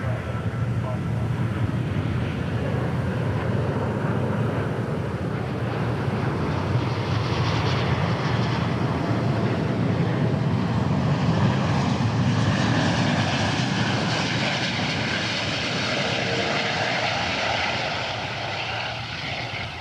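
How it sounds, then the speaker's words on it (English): A Qantas heavy airliner touches down at DFW Airport, a loud, sustained engine and airflow roar swelling through the middle and tapering toward the end, with voices talking over it. "Another excellent touchdown by Qantas."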